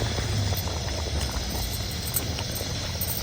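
Chepala pulusu, a tomato-based Telugu fish curry, bubbling steadily in a pot, a close, even rolling simmer that carries on without pause and with nobody speaking.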